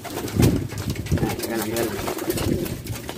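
Barata pigeons in a backyard loft cooing in low, soft, repeated calls close by, with someone talking over them throughout.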